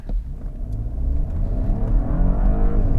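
An Audi Q8 SUV, about 5,000 pounds, accelerates hard from a standstill toward 60 mph, its engine note rising steadily in a deep, close, continuous roar with the revs climbing.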